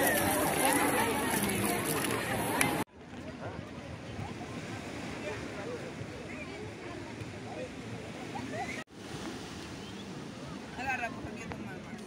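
Beach waves wash in steadily at Playa Naplo, a broad continuous surf roar close by, with wind buffeting the microphone; voices talk over it.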